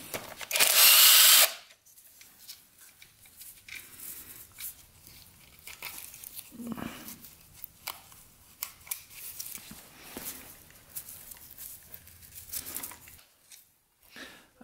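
A power tool works bolts on the engine cover of a heavily rusted barn-find dirt bike, giving one loud, harsh burst lasting over a second. Quieter scraping and handling noises follow, close by, with no speech.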